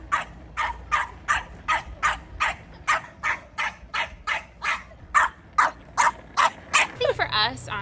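A dog on a skateboard barks in a steady run of about seventeen loud, evenly spaced barks close by, with a short burst of higher yipping at the end and a low hum underneath.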